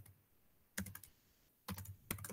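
C code is typed on a computer keyboard in two quick bursts of close clicking keystrokes separated by a short pause, with no voices.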